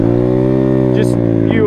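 A dirt bike engine drops down through the gears, holding a steady loud harmonic drone that wavers briefly as each downshift comes, close and continuous with no talk over it.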